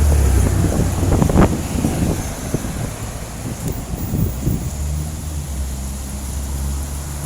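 Wind buffeting a handheld microphone while walking outdoors in downtown Grand Rapids on a cold Halloween evening, a continuous low rumble with gusty thumps, strongest in the first couple of seconds and easing later, no talk.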